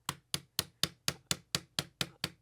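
The plastic face of a hammer taps a retaining pin into a Ruger-57 pistol frame, ten crisp, evenly spaced light knocks at a quick, steady rhythm, close and isolated with no talk.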